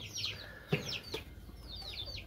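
Newly hatched chicks cheep in a brooder pen, a scatter of high, thin peeps repeating irregularly at moderate distance over a low background hum.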